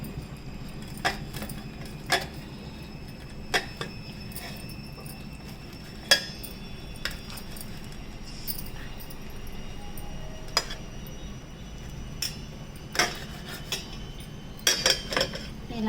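Kitchen sounds while cooked tomatoes for tomato bajji are cut: soft, scattered knife taps and clinks on a board or plate at irregular intervals, faint and close over a low background hum.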